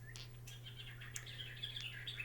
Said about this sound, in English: the bird clock.